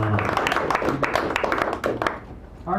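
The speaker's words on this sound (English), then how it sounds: "give him a nice round of applause" Cafe audience applauding after a poetry reading, a modest crowd clapping in uneven, crisp bursts up close that taper off toward the end.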